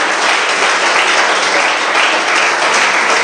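A church congregation applauds steadily throughout, a dense, sustained wash of clapping from many hands with no pauses.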